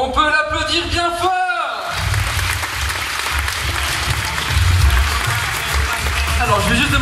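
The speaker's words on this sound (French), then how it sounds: "On peut l'applaudir bien fort." Audience applause at a live hypnosis show in Champagnole, filling the room with dense, sustained clapping, whoops and cheers for over seven seconds, swelling slightly toward the end.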